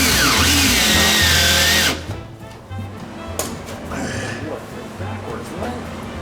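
A power drill whines loudly for about two seconds drilling deck planks, then stops, leaving quieter knocks and voices talking nearby.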